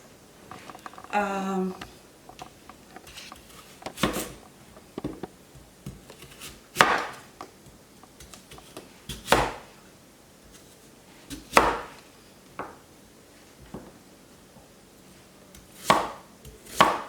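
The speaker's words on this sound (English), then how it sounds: "I'm chopping the taro now." Knife blade chopping taro on a cutting board in sharp, irregular chops, each a crisp thud, spaced a second or two apart with quiet gaps between.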